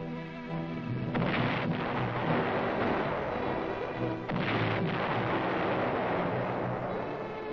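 Heavy explosions and rumbling blasts as military installations on Tachin Island are destroyed, a dense, continuous roar with sharper bursts near the start and midway, loud throughout with no talking.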